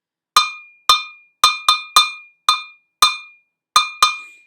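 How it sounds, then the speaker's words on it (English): A cowbell with a red finish is struck squarely in the middle with a mallet, giving nine bright, ringing metallic hits in an uneven rhythm, each sharp attack decaying quickly, close and alone with no talking. "That is my cowbell."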